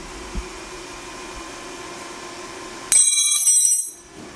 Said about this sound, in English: Right now I'm going to take a wrench and drop it on a concrete floor.